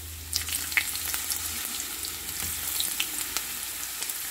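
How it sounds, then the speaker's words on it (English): Plain Japanese sweet yam (camote) slices frying in a pan over low to medium heat, a steady soft sizzle with occasional small pops and crackles, no voices. "it's ready for frying so there's nothing here being added so just plain kamote"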